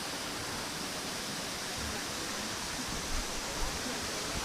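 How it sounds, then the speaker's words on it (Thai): Waterfall at Tham Pha Daen temple in Sakon Nakhon, heard as a steady, dense rush of falling water that stays even and full throughout, with no voices. "เสียงน้ำตก"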